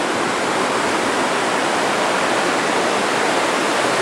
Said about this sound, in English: That's the hydroelectric plant, and that's the water that's running through the hydroelectric plant after it's made electricity.